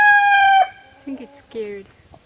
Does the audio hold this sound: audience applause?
no